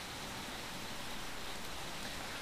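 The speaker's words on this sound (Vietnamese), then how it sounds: "các anh chị có thể nghe thấy những cái tiếng ồn của tiếng mưa" Heavy rain falling outside, heard as a steady, even hiss of dense rainfall that fills the whole stretch without change, fairly faint and with no talk.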